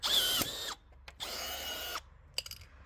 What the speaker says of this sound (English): I'm going to use this Milwaukee rivet gun to put these in